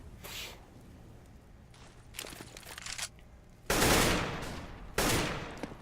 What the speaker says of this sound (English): Blind firing into Sniper's Nest.